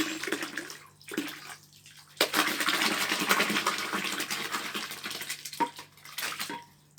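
Cold water poured from a container into a rose kvass mixture being brewed at home, a steady splashing pour lasting several seconds after a few brief clinks and trickles.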